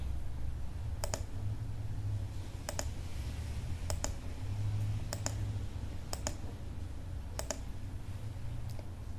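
Sharp computer mouse clicks place polygon vertices in GeoGebra software, coming in quick double-click pairs about once every second, crisp and close over a faint hum, with no talking.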